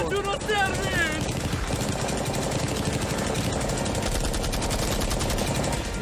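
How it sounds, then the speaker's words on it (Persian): Rapid, sustained gunfire pours round after round into a Lamborghini in a train-stopping challenge, a dense loud rattle running throughout with voices and other noise mixed in. "فقط چند تا گلوله دیگه برای نفوذ کردن به لامبورگینی لازمه"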